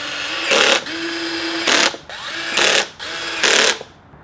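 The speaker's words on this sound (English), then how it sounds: "And then just put the rest of the screws in." A power drill drives screws to attach Onewheel flight fenders during a tire change, with four loud whirring bursts of rising pitch, each lasting about a quarter second, separated by short pauses.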